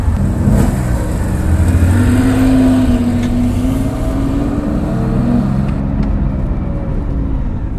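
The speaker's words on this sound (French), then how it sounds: "ce flat 6 à la sonorité incroyable qui est réveillée par l'échappement SCART" A Porsche 911 2.4 T flat-six with a SCART exhaust drives along, its engine note a steady, loud, continuous drone close by with no talking.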